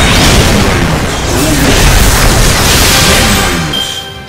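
A loud, heavy cannon blast in Fate/Grand Order with a long rumbling roar that holds steady for several seconds before fading slightly at the end.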